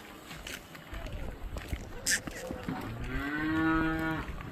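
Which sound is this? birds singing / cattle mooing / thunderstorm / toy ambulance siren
cattle mooing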